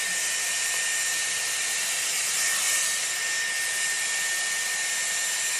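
A Dyson Airwrap round brush blows steadily while drying hair at the roots, a close, constant high-pitched whoosh of airflow with a faint motor whine and no talk.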